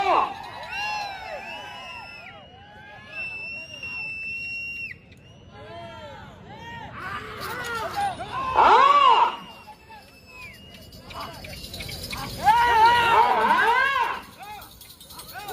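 Large crowd at a bull pulling competition in Vadlamudi, shouting and cheering in waves that swell loudly around the middle and again near the end, with raised voices and whistles over a steady hubbub.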